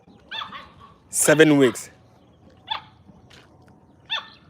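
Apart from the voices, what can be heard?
puppy dog barking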